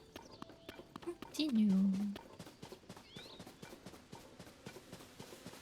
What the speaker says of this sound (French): Oh, il y a des chevaux.